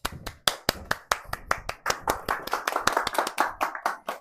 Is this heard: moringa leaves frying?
no